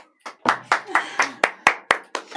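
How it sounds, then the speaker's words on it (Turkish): Hands clapping in a slow, steady rhythm, about nine sharp, close claps spaced evenly, alone without talk. "Bu alkış yoktu. Bu adeti çıkarma başımıza bir de."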